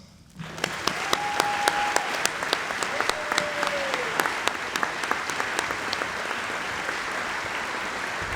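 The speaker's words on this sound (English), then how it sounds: "we just want to give them a round of applause" An audience at a class day ceremony breaks into sustained applause that starts abruptly and holds steady for several seconds, with a few brief tones and voices heard beneath the clapping.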